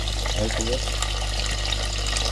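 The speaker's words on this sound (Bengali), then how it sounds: "অল্প করে জল দিয়ে দিচ্ছি" Water is poured into a cooking pot while ghugni with goat fat is cooked. It makes a steady, close rushing splash over a constant low hum, and someone speaks briefly over it.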